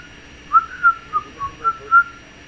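A series of six short whistled notes, clear and fairly close, each a brief rising or falling tone with small gaps between them, no talking.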